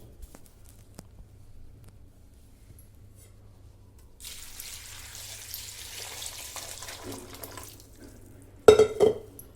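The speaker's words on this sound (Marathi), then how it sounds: "आता ह्याच्यात हे आपण पाणी ओतून स्वच्छ धुवून घेणार आहोत" Fresh groundnuts being washed in water, soft quiet splashing and swishing building up midway, ending with a louder burst of pouring and rattling near the end.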